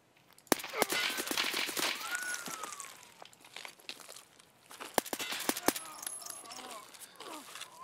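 Scattered gunshots ring out in a match of Escape From Tarkov, several sharp cracks at different distances among rustling and footsteps, with a voice talking over parts of it.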